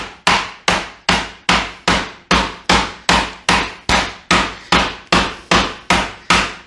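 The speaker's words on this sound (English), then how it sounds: "now I'm not going to pound this whole thing out because it's going to be loud" Beef being pounded flat for braciole with a meat mallet, about fourteen loud, evenly spaced thuds in a steady rhythm, close by and with no talking.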